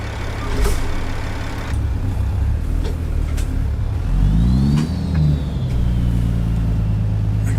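A vehicle engine in a driving game hums at low volume under background game sound, with a brief swell and whine around the middle as it revs, then settles back to a steady drone.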